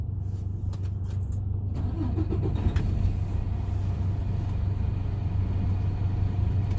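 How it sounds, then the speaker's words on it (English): A semi-truck tractor's diesel engine idles in neutral with the valves set, a steady low rumble that holds constant, with brief jingling clicks near the start and no talking. "I'm gonna turn the engine back on to allow my pressure to rebuild"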